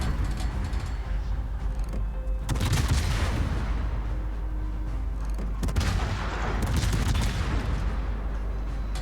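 Heavy rolling gun blasts from naval cannons in World of Warships boom in a sustained barrage, with two big salvos thundering loudly over a constant low rumble.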